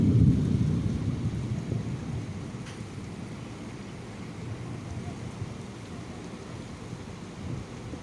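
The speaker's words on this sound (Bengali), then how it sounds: "তো ক বছর পরে বৃষ্টি," Heavy rain pours steadily in Doha, Qatar, with a deep rumble of thunder rolling strongly at the start and fading into a continuous loud downpour; no voices are heard.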